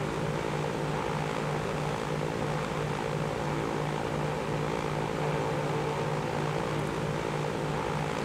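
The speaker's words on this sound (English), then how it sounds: "this means that the planes are now going to arrive every 3 minutes" Propeller airplanes in the transport simulation game Transport Fever drone steadily, a continuous buzzing engine hum with a throbbing, airscrew texture that holds unchanged throughout.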